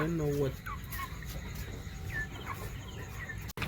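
Short clucks from a chicken come and go at close range over a noisy outdoor background, with a brief voice at the start.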